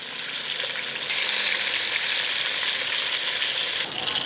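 Tomatoes frying in oil in a pan for chutney, a loud, steady sizzle that swells partway through and holds at a strong, bright level with no voices.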